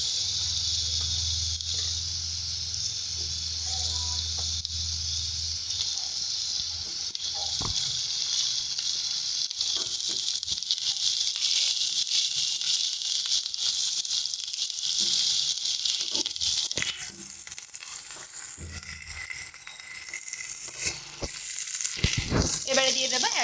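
Green chili paste and ginger paste sizzle in hot oil for a fish curry, a steady loud frying hiss with occasional stirring scrapes and clinks, while someone talks over it.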